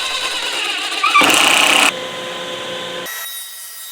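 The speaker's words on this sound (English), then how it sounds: "Now I can cut all the slots in one operation." A saw cuts slots through several wooden boards screwed together temporarily and clamped to a miter gauge, producing a loud, close buzzing whine that swells briefly as the blade bites, then settles and winds down.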